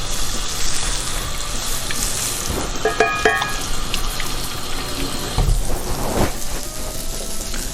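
Tap water running into a kitchen sink during washing up, a loud continuous splashing rush with a few clinks of dishes, no voices.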